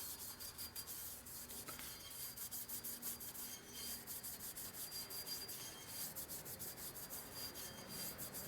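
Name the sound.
scrubbing a metal clutch basket pulley with a scrub pad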